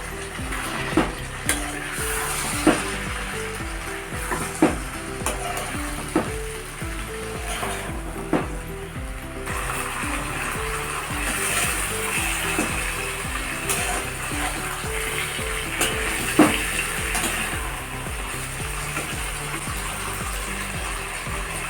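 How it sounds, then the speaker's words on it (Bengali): Bitter gourd and drumstick pieces sauté in a pan with a constant hissing sizzle, while a spatula knocks and scrapes against the pan at a steady rhythm, becoming sparser later. "সজনা ডাটা সব দিয়ে একসঙ্গে ভালো করে কষে নেবো"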